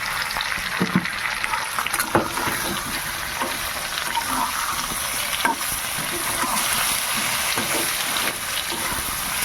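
Potatoes frying in a pan for a potato, eggplant and prawn dish, a steady loud sizzle with bursts of stirring scrapes throughout, close up and without talk.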